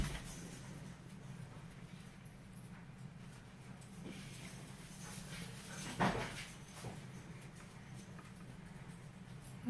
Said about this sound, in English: my dogs are very excited right now, so you can probably hear them.